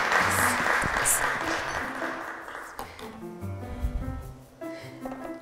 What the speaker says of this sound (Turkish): alkışlar her iki masaya